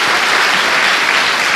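A church congregation claps together during a Portuguese-language worship service, a loud, thick wash of applause that stays even and close throughout its short burst, with no voices on top.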